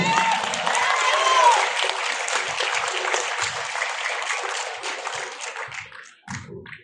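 Concert audience applauding after a Racha dance by a choreographic ensemble, dense sustained clapping that thins out and fades toward the end, with a brief voice over it at the start.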